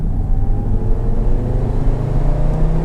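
A sports car, an Audi TT-RS or Nissan 370Z Nismo, pulls hard in third gear from about 20 to 30 mph, its engine a loud, steady, deep drone with road rumble heard from inside the cabin.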